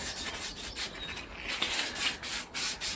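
Abrasive rubbing down a car part on an MG ZR before it is painted black: close, steady back-and-forth scuffing strokes with a hissy, gritty texture, repeated rhythmically and heard alone.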